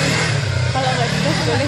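A motorcycle engine revved with the throttle during a Yamaha riding-safety training session, giving a short mid-pitched rising rev under continuous talking.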